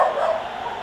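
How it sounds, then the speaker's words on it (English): A pet dog barks and yips once nearby, a short bright bark trailing into a whimper, alone without talk. "you can probably hear my dog saying hello"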